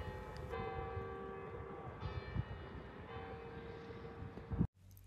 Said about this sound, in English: You can actually hear the church bells from the village when you're at the chapel.